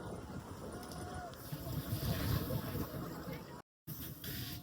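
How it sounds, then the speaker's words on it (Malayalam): Cold wind blowing across snowy Koksar near Manali in winter, a steady rushing buffet against the microphone that swells and eases, with a brief dropout near the end. "നല്ല തണുത്ത കാറ്റുണ്ട് കേട്ടോ"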